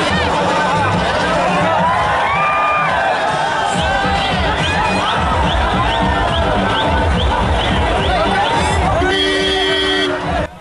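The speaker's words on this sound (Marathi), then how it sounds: "नागरिकांनी गोविंदाला पाहण्याची एकच गर्दी केली" A dense crowd of townspeople packs the streets at a road show for actor Govinda, with loud continuous babble, cheering and shouts close by throughout.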